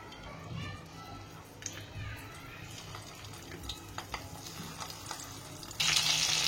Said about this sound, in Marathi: चला आता मी तेलात सोडत आहे